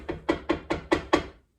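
Six evenly spaced, hollow knocks rap in a steady rhythm, close and fairly loud, imitating knocking on a coffin lid, then stop into silence.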